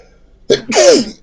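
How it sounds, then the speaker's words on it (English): A single close, loud sneeze: a quick sharp intake followed by a forceful burst, in an otherwise quiet space. "I'm going to sneeze."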